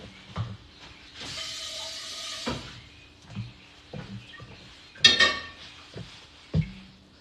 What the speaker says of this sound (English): Let me wash my pot.